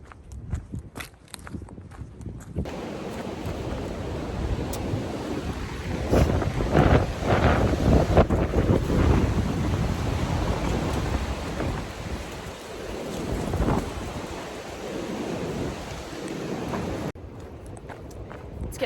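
Strong wind gusts and roars steadily across the mic ahead of a thunderstorm on the Appalachian Trail in the Shenandoah section, loud and continuous with rumbling buffeting, fading slightly near the end.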